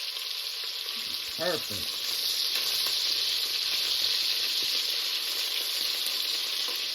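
Beef searing in a pot for homemade stew, a steady broad sizzle filling the clip, close and even, with a brief spoken word near the start.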